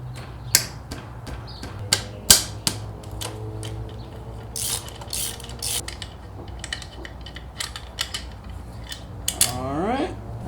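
A ratchet wrench works loose two 12 mm bolts on a Yamaha Raider motorcycle during a 240 mm rear tire swap, making close, irregular bursts of clicking and sharp metallic snaps with no talking.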